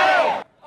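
Roaring shout from a crowd of about 300 protesters in downtown Los Angeles, a loud sustained burst of massed voices that cuts off abruptly, then a fainter murmur rises.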